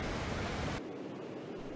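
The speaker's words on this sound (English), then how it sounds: "so you can hear the waterfall in there." Steady broadband rush of a waterfall in the game Ark Genesis 2, loud and continuous, dipping slightly in level partway through as the view shifts, with no voices over it.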